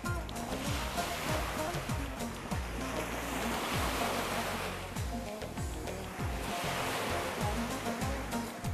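Sea waves wash onto a beach in a continuous roar, with surges swelling and fading, mixed with wind buffeting the microphone.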